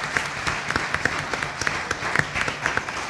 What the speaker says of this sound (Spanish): Quisiera pedirles a todos ustedes un aplauso para nuestros panelistas